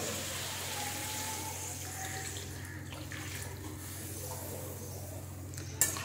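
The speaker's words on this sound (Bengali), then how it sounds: "এর মধ্যে আমি দিয়ে দিচ্ছি এখন জল।" Water pours steadily into a pan of curry paste made with coriander leaf paste, a continuous close gushing splash over low kitchen hum, ending with a short sharp knock near the finish.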